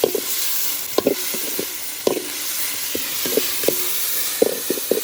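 Onions with ginger garlic paste sizzle and fry in a pan for a beef dish, with a steady hiss broken by repeated close knocks and scrapes of a spoon stirring, and no talking.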